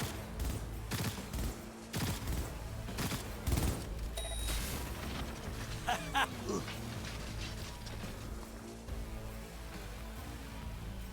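Gunfire in the Cyberpunk video game cracks out in loud, scattered bursts and single shots amid mechanical clanks and a deep boom, with a few dense volleys and a rumbling background throughout.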